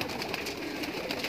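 Soft pigeon cooing and bird murmurs from a pigeon loft near Mahim Dargah fill a steady, busy background, with no clear single call standing out.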